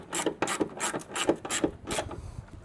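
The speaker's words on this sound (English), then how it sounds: "Then get your 10 millimeter and crank it down." A ratchet with a 10 mm socket tightens a sliding door hinge on an old Dodge. It gives a quick series of close, faint clicking strokes in an uneven rhythm, with no speech.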